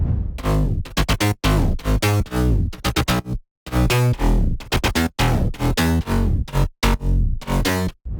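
Thick, layered future house synth mid bass pumps out a fast, stuttering pattern of bright, gritty notes, loud and continuous apart from a couple of short breaks.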